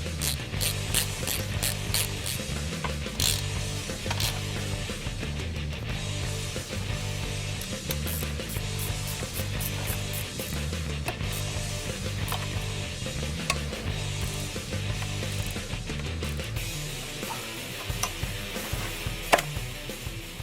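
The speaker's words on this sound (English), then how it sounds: "Now we can tighten everything down on the bracket." Bolts being tightened on a Ford Focus ST (2013-2018) rear motor mount bracket with a cp-e Stage 2 xFlex mount, making a steady run of close, rhythmic ratchet clicks with no talk.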